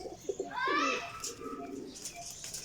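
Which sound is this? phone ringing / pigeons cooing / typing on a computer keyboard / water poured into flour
pigeons cooing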